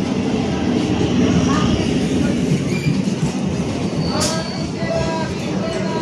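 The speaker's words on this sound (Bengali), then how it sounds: "ট্রেন ঢুকে গেছে" A loud, continuous rumble of a Howrah local train rolling into a station platform, with a brief high wheel squeal and a busy murmur of voices underneath.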